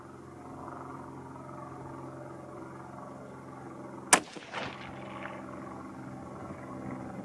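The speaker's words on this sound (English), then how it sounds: "There are some people out here shooting." A single rifle shot cracks from another shooter at an outdoor range, sharp and moderately distant over a low hum, with a fainter echo or second report half a second later and no talking.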